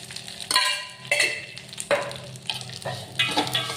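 Vermicelli frying in ghee in a pan over a medium flame sizzles steadily while a spoon stirs and scrapes it in repeated close strokes, with no voices.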